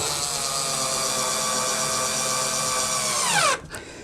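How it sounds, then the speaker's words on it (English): A power drill drives screws into pre-drilled holes while a battery hatch is fitted to a Vibe Sea Ghost 130 kayak. The steady whine winds down sharply near the end, and a short tail of quiet follows. No talk. "I pre-drilled all my holes, and I'm just going to put screws in it for now"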